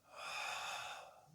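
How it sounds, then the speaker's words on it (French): A long, breathy exhale during a pilates exercise, close and soft, swelling and then fading over about a second. "j'inspire. Et j'expire."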